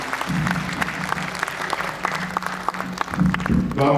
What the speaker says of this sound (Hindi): जोरदार तालियों से स्वागत करिए अपने आंगन के बड़े रचनाकार का भाई डॉक्टर दिनेश रघुवंशी